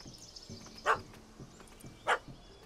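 A dog in The Witcher 3 game gives two short barks about a second apart, moderately close against a low ambient game backdrop.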